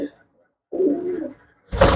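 Pigeons for sale at a kabootarbazi market give short, low coos in two bursts separated by quiet, with a brief louder noise at the end and voices around them.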